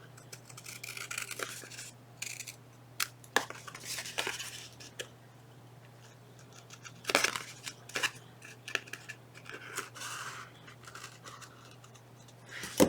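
Scissors cutting craft paper in scattered, crisp snips and rustles, some sharp and close, others soft, with quiet handling sounds in between.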